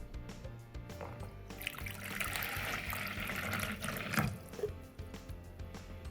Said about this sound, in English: So then you need to put your water inside your bowl.